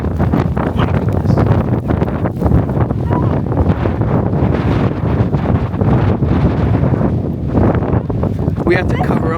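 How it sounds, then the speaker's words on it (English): A heavy wind gust near an old sand-buried lighthouse on Faial in the Azores, a constant loud roaring buffet against the microphone with gritty rustling of blown sand and pebbles throughout. "The wind gust just blew sand, and it's not even sand, it's like heavy pebbles."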